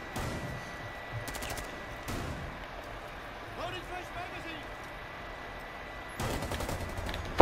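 Gunfire in a shooter video game: a few sharp bursts of shots early and again near the end, separated by quieter stretches of background game noise, with a final loud crack.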